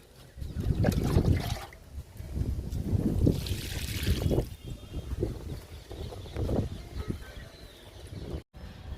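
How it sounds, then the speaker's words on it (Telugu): Water splashing and gurgling in uneven bursts as pomegranate plants are watered, close and moderately loud, with birds calling faintly in the background. "దానిమ్మ మొక్కలకి వాటర్ ఇస్తున్నాను."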